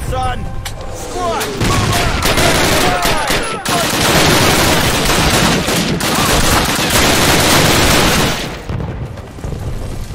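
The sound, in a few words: gunfire in Call of Duty 1 video game battle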